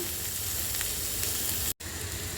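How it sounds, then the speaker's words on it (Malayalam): Capsicum and tomato sizzle steadily in a hot pan while being sautéed for a vegetable coconut milk curry, a close, continuous hiss broken by one very short silent gap. "ഇതെല്ലാം കൂടെ ഇട്ട് നന്നായിട്ട് ഇതിനെ വഴറ്റിയെടുക്കണം."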